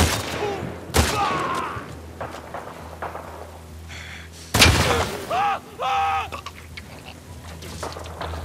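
Two loud, sharp gunshots in The Last of Us Part II, spaced a few seconds apart and ringing briefly, amid moaning, bleating-like cries and someone speaking.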